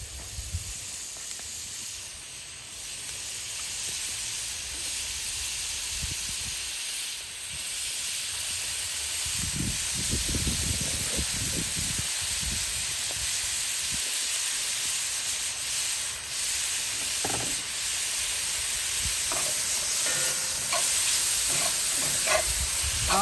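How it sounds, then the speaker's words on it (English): Garlic sizzling in a pan with Cajun shrimp and lobster while cooking outdoors in the woods, a steady hissing sizzle throughout with occasional scraping and clunks of a utensil, close and fairly even in loudness, no talking. "and my garlic. Let's drop that in there too."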